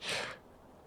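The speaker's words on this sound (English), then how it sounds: "The heavy breathing was my own addition." A heavy, breathy exhalation voiced by a reader, one short airy sigh-like breath, close and fairly soft, fading quickly into near silence.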